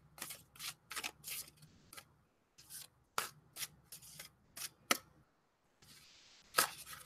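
True Black tarot cards being overhand shuffled, a quiet series of brisk papery riffs and rubs in irregular bursts separated by short pauses.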